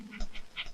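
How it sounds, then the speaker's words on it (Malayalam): A dog panting in short quick breaths, faint and brief, with no clear bark heard. "പട്ടി കിടന്ന് ബഹളം വെക്കണ കണ്ട"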